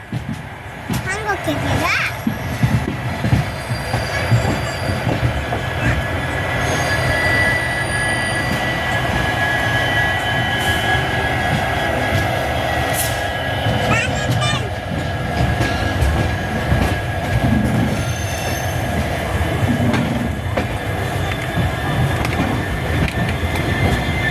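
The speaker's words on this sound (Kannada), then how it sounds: "ಆದರೆ ಇನ್ನು ಟ್ರೈನ ಸ್ಟಾಪ್ ಆಗಿಲ್ಲ" A passenger train moves along the rails near Guwahati with a continuous loud rumble and rattling carriage noise, while voices chatter throughout.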